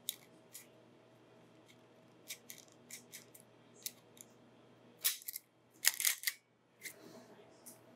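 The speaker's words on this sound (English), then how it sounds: "I'm even gonna use my fancy little zip tie gun" A handheld zip tie gun tightens a cable tie in a few quick ratcheting bursts, then a sharp snap as it cuts the tail, close by on a robot arm's motor and encoder cable routing, with small clicks before it and no talking.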